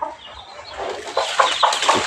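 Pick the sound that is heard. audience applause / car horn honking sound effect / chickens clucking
chickens clucking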